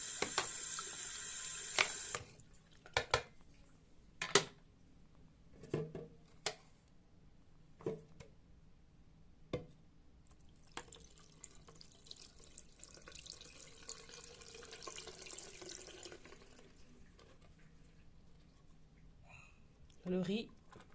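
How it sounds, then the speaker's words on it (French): Water from a tap runs over a vacuum cleaner's dirty-water reservoir as it is rinsed clean, a steady wash of flow in the second half following a string of sharp clicks and clunks of handling. "Et vous allez rincer tout simplement à l'eau claire."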